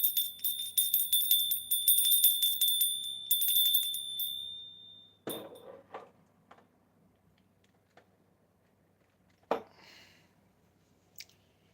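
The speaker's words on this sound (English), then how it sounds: "The bell of happiness." A small bell rings in rapid repeated strikes for several seconds with a sustained high tone, then stops, followed by scattered faint clicks and a couple of sharper knocks in near silence.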